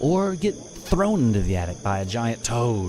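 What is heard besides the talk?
crickets chirping, forest night ambience sound effect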